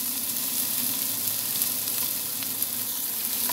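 Onions fry in a pan for a spinach dish with a constant, even sizzle up close and only faint occasional stirring clicks, with no voices.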